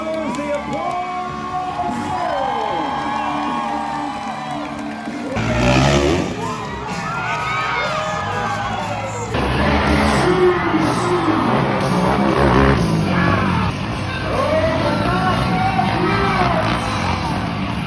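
A rodeo crowd cheers, whoops and shouts continuously at a barrel racing event, a dense and lively roar with some children's voices rising and falling in waves.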